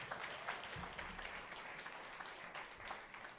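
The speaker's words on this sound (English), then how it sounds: "nice round of applause for Mr. Gordon and his team and the performers for tonight" An audience applauds Mr. Gordon's team and the night's performers at a student design awards event, a steady, dense wash of clapping heard from a distance that carries on evenly throughout.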